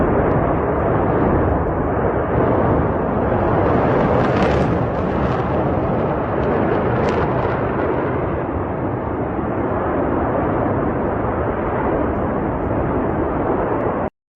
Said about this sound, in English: The explosion of the main gas pipeline near Omsk is burning phenomenally.